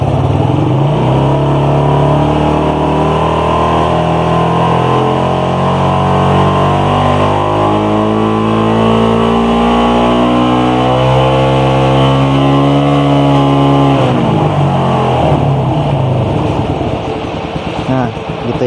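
A Suzuki Satria FU150 motorcycle engine in power mode revs steadily higher, the pitch climbing for about fourteen seconds before dropping back to idle, loud and close with a voice talking over it.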